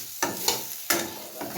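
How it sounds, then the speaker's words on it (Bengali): Flat beans frying in a little oil in a pan, with a steady soft sizzle broken by three or four sharp scraping stir strokes, close by, with no voices. "সিমটাকে আমি ভালো করে লাল লাল করে ভেজে নিচ্ছি অল্প তেলের মধ্যে দিয়ে"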